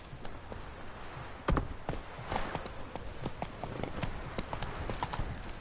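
Roach, Geralt's horse in the fantasy game The Witcher, walks along with steady, close clip-clopping hooves, each footfall crisp and evenly paced.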